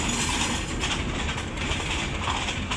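A slow six-carriage Ramna local train in Bangladesh rolls past close by, its steady wheel clatter and rumble continuous and loud throughout.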